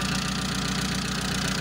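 Mitsubishi Colt T120 engine idling close up with one spark plug cable removed, a steady, loud rumble with a slightly uneven, rough pulse throughout.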